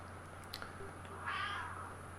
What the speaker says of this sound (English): the Pixie Bob Kitten's having a word to say about it